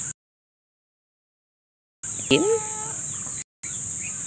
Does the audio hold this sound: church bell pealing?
no